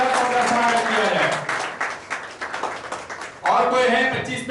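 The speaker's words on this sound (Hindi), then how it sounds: "जबरदस्त तालियों के साथ उनका स्वागत किया जाए।" An audience at an awards gathering gives a welcoming round of applause for an honoree, loud dense clapping that dips midway and then surges again, with a voice talking over it.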